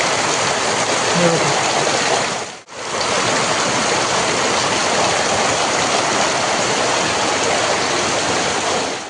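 Heavy rain pouring down in a village in a steady, loud roar, briefly cutting out early on, then continuing unbroken and close.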